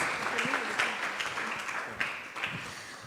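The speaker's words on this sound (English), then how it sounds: "Let's give us applause for the team" Audience applause for a team at a Proto-A-Thon hackathon event, a moderate wash of clapping with scattered sharper claps, somewhat distant and softly fading over a few seconds.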